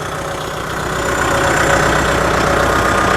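A Kubota 5502 4WD tractor engine idles steadily and loudly up close, a constant low rumble that swells slightly after the first second.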